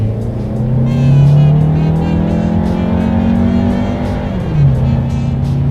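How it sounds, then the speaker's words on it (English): A 2019 Volkswagen Tiguan SUV with a turbocharged 4-cylinder engine accelerates, its engine drone heard from inside climbing steadily in pitch, dipping briefly at a gear change, then pulling again; no talking. "let's do a quick little acceleration and let's see how quickly we can get this turbocharged 4-cylinder here up to speed"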